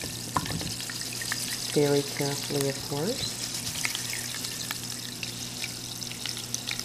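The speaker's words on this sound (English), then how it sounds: "So I take the lye and I pour that into the water" Lye poured into water for homemade soap, with a brief liquid splash and gurgle near the start under a woman's close speech, then a quiet fizzing, hissing background.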